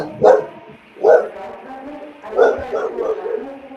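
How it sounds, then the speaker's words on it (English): A dog barks close and loud in a quick series of sharp yips, two single barks followed by a short double burst, with no talking. "Luna heard that dog barking."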